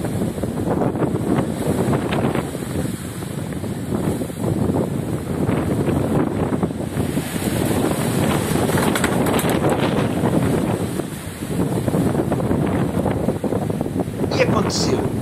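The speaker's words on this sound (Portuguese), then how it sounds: "Está prestes a soprar a grande rajada de vento." Strong gust of wind roaring past a spinning wind turbine, a loud continuous buffeting rush with brief dips in intensity, steady over the whole stretch with a voice speaking over it.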